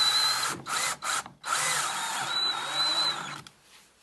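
A power drill whirs as it drives fasteners into a rack-in-a-box assembly, in several short bursts broken by brief pauses and then one longer steady run with a high whine, close by and alone.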